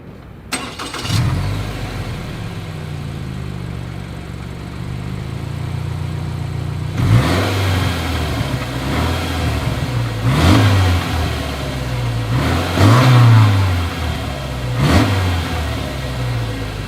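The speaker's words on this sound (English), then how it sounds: "As always, here is that exhaust clip." A 2021 Subaru Forester engine idles through its exhaust, then revs sharply four or five times in spaced bursts, each rising and falling back to a steady burble.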